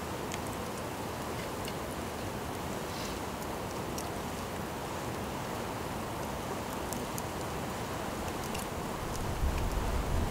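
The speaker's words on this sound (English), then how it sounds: "It's still raining." Rain keeps falling over a canoe campsite: a steady, hissing wash of drops with scattered sharper ticks and patters, as if striking a tarp, holding level throughout with no talk.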